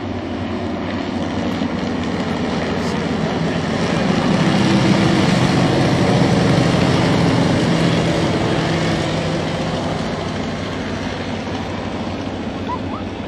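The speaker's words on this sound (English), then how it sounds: "Coming to an end now as the first aircraft approach runway 25, and the final flight of 4" WW1 Fokker DR1 triplane and Fokker D7 biplane replicas flying together in a formation of four at an airfield, their propeller engines droning steadily and swelling slightly as they pass overhead.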